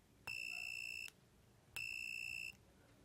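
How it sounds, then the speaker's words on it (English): An Arduino buzzer triggered by a pushbutton gives two steady, shrill electronic tones, each lasting under a second with a short gap between, close and clean over a quiet background. "when I push this push button, you can see that the buzzer is making some noise"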